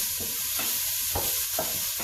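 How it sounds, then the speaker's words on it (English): Bacon frying in a pan for seafood chowder, a steady close sizzle with soft crackles and periodic stirring scrapes, heard alone. "So just cook that off until it's nice and crispy."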